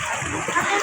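Sea water splashes continuously close by at a beach, a broad rushing wash with small bursts as people swim, with no clear talk over it.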